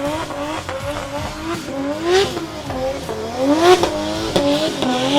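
Drift car engine revving hard at Meremere Drift Park during a drift competition qualifying session, loud rising and falling revs with tire squeal, sustained throughout.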